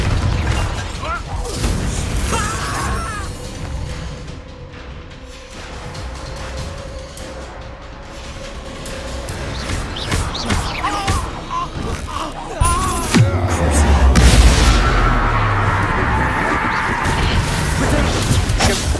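Bombarda and Confringo spell blasts in the video game Hogwarts Legacy burst out as repeated booms, crashes and pops over steady game music and effects, with louder impacts building toward the end and a voice casting spells.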